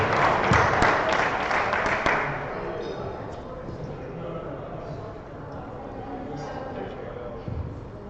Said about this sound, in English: So, please, round of applause as Matt, Nick, and Simon present Avvie.